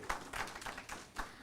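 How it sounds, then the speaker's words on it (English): A short burst of audience clapping at a conference session, a few quick rhythmic claps from a small crowd heard at moderate distance. "Let us give a big clap to Shiji."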